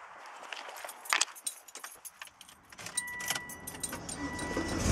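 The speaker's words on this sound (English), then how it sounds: "Turn on the car for a second." Keys jangle close by, then an ignition turns and a Volvo car fitted with HID headlights starts, its engine settling into a steady idle hum that grows louder toward the end.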